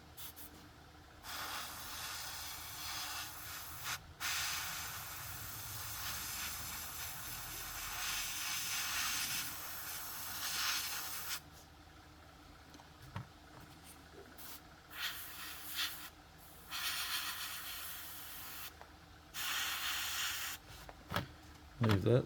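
Airbrush spraying AK Extreme Metal dark aluminium paint, used neat, onto bare metal: a steady airy hiss in long bursts with brief pauses between passes, close by.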